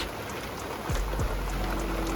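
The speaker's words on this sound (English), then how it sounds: "then it starts raining and you have to stop" Rain falls steadily outdoors during a storm, a dense, even hiss of drops on surfaces, with a couple of brief low thumps partway through.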